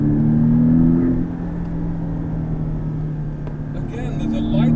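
A Porsche 718 Boxster with its smaller engine lapping the Yas Marina race circuit, a steady engine drone heard from inside the cabin that swells briefly then settles to an even cruise.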